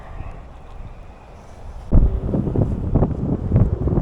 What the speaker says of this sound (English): It's been a very windy day today.